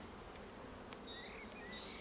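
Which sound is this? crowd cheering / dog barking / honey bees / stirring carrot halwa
honey bees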